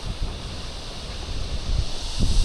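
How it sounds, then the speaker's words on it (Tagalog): Steady cold wind blows near a hanging bridge in Maragusan, Davao de Oro, buffeting the microphone in a continuous rushing roar, with low gusty thumps rising toward the end. "Oh, ang lamig ng simoy ng hangin."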